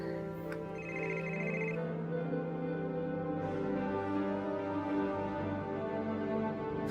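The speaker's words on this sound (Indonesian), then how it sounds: "Maaf ya, Neng. Tetangga telepon." A telephone rings indoors with a steady electronic ringtone that carries on through the whole stretch, moderately loud, with one brief higher trill early on and no talk over it.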